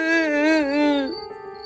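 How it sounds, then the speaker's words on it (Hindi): A long, wavering, tonal wail like a woman's soft, mournful crying, used as an eerie effect in an animated horror story, rising and falling clearly before fading into a quieter trembling tail. "अचानक एक औरत की धीमी, करुणा भरी रोने की आवाज सुनाई देती है।"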